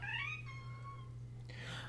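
A house cat gives one drawn-out, wavering meow close by, with a low steady hum behind it.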